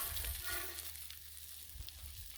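Breakfast sandwich food sizzles on a Blackstone griddle: a soft, continuous frying hiss runs throughout, with a low hum beneath and a few faint clicks.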